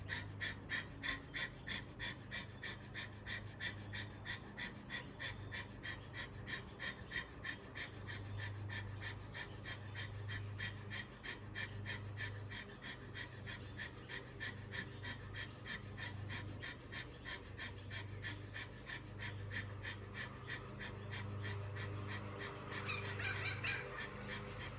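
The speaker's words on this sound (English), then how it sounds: "as you continue the fire breath" Rapid rhythmic yogic breath of fire, quick forceful exhalations repeating steadily and evenly for the whole stretch, close and alone with no talking.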